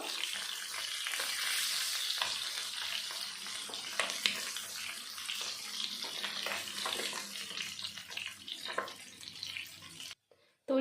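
Desi koi fish frying in hot oil, a loud, hissing sizzle with bursts of spitting crackle that runs steadily before dropping out abruptly near the end.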